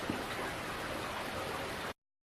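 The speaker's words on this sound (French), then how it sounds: "aujourd'hui c'est orageux chez nous, il pleut" Heavy rain falling during a thunderstorm, a dense, steady hiss that cuts off abruptly into silence.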